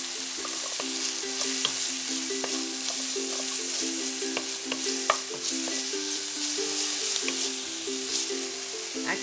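Onions, garlic and scallion frying in a pan as they are stirred, a dense steady sizzle with frequent crackles and light utensil scrapes, close up with a faint tonal hum underneath.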